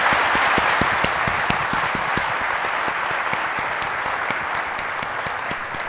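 Audience applause for a panel at an evening AI lecture event, a dense sustained clapping from a large crowd with sharp nearby claps standing out, gradually easing off toward the end.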